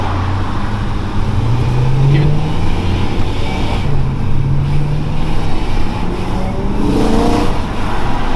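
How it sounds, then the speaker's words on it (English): A BMW E92 M3 V8 engine rumbles steadily nearby, its low growl rising and falling in pitch as it revs, with no talking over it. "Oh, that engine note is absolutely phenomenal."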